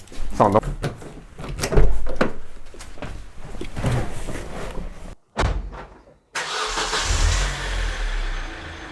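Car with a rebuilt 2.0 G4GC engine being started in a garage: the starter cranks, the engine catches and settles into a steady idle, with people talking close by.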